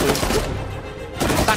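Short bursts of gunfire from a shotgun-type weapon in the action video game Uncharted 4, a quick cluster of loud shots, a pause, then another burst.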